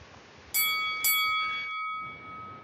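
Two bright notification bell dings ring out in quick succession, each leaving a clear sustained metallic tone that slowly fades over a quiet background.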